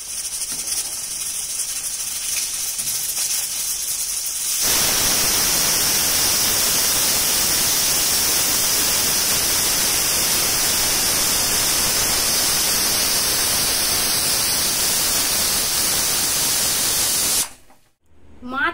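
Pressure cooker steaming hilsa fish paste, a loud steady hiss of escaping steam that starts abruptly after a quieter stretch, holds constant for over ten seconds, then cuts off.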